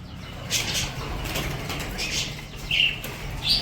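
A dove flaps its wings in several brief, soft bursts of feathery flutter at close range, spaced irregularly over a few seconds with a faint background hum.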